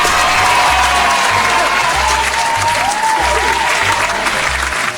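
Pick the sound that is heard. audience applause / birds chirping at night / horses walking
audience applause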